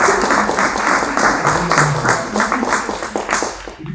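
An audience at a French conference debate applauds, dense loud clapping that carries on steadily and fades out near the end.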